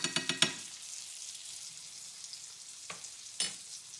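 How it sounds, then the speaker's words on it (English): Salmon fillet pan-seared in brown butter, basted as it cooks, sizzling with a steady close hiss; a few quick spoon-like taps sound at the start and two faint clicks follow later. "So I'm gonna give it that one last basting."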